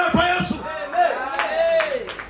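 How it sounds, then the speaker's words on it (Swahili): A church congregation ululates in praise, with wavering, trilling high cries rising and falling over about two seconds, mixed with clapping. "Vigelegele kwa Yesu."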